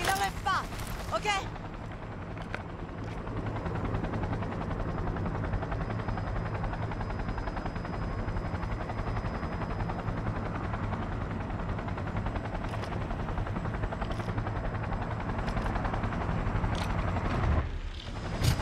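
A flying vehicle in Cyberpunk 2077 lifts off with a steady, loud engine roar that fills the whole stretch and holds level throughout, with brief clanks and thumps near the start and end.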